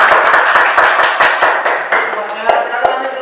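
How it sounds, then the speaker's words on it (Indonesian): Classroom applause for a student group, a burst of scattered hand claps with sharp irregular taps, fairly close, with voices murmuring underneath. "Beri tepuk tangan untuk kelompok 1"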